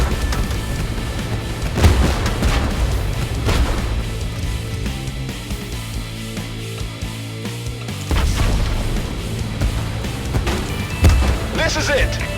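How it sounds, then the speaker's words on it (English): Bombardment explosions in the tank game Tank Force on Renaissance Island, heavy booms and bursts landing repeatedly over a continuous low rumble, with a radio-style voice talking over them. "We are under fire. Keep them coming. We are under bombardment."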